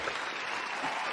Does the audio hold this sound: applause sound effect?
yes